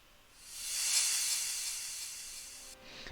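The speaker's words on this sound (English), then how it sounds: "Then we have this reverse crash that I also use in the break." Reverse crash cymbal sample for a progressive house break: a breathy hiss swells to a peak, thins out, then cuts off before a short burst at the end.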